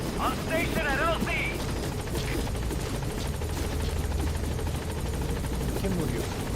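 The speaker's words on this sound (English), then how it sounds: "Support helicopter has arrived." In the Metal Gear Solid V video game, a support helicopter arrives at the landing zone, its rotors making a steady, heavy chopping rumble. Brief voices briefly talk over the droning noise.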